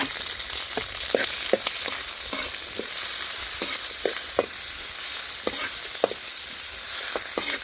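Pork belly and pork liver fry in lard in a pan with steady sizzling hiss, punctuated by scattered sharp pops and crackles of spattering fat throughout.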